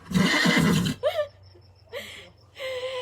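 A horse whinnies in a series of calls: a loud, breathy burst first, then several shorter, wavering neighs with brief pauses between them, close and clear.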